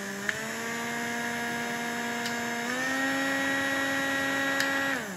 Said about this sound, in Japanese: 羽の音よりはモーター音の方が気になる感じかなというところです。